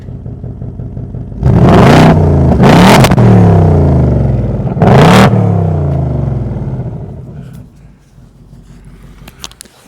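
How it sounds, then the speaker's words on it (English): A 2024 Ford Mustang GT V8 in track mode bursts into loud, close revving, several rising blips of deep exhaust roar in quick succession before settling to a rumbling idle with a light clatter. "That's got to be one of the best exhaust notes"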